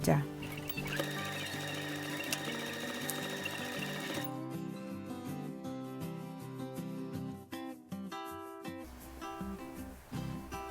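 Sewing machine stitching around the edge of a fabric face mask, a steady mechanical whir that runs in bursts and stops, with music playing under it throughout.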